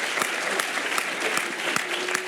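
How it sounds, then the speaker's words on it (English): Steady applause from an audience thanking the moderators of a panel discussion on public education in Texas, dense continuous clapping throughout, fairly close and even in level. "So a round of applause for them, please."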